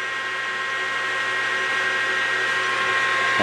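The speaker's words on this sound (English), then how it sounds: "So, 755. So, machine picking up speed pretty nice," A YUWE L1440 manual metal lathe runs at a higher spindle speed, making a steady loud mechanical whine with a constant hum that holds evenly and grows slightly stronger toward the end.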